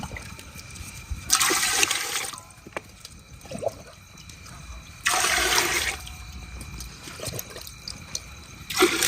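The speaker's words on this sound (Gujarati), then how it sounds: "તપેલામાં પહેલા પાણી વેળી દેવું." Water is poured into a cooking pot in a village kitchen while potato bhungla is being prepared. Two or three separate bursts of pouring and splashing come close by, with quiet gaps between them.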